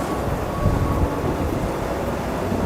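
Wind gusting along a snowy New York City street during a deep freeze, a loud, continuous low rumble buffeting the microphone, with no voices.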